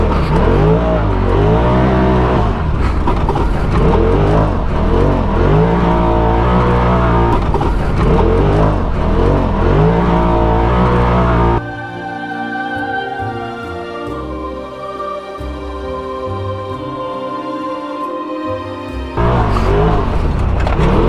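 A 180hp Polaris RZR Turbo R revs hard while sliding on dirt in rear-wheel drive, its turbo engine roaring loudly and close, then easing to a quieter, rougher rumble for several seconds before surging again.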